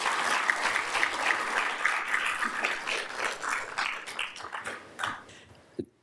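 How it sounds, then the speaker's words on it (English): An audience applauds after an oration by Sri Mulyani Indrawati, with dense, sustained clapping that swells and then tapers off toward the end. "Can we give Ibu Sri Mulyani another round of applause?"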